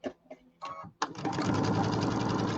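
A sewing machine stitches narrow pieced fabric strips for a birdhouse bench block, starting with a few short bursts and then running steadily and loudly up close.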